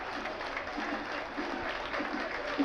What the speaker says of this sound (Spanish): La salida con aplausos para el capitán franjeado.